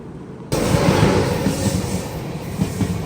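The Kanyakumari–Pune Express roars past at a crossing at Parasala station, bursting in suddenly as a loud, close, continuous rail rumble with no voices.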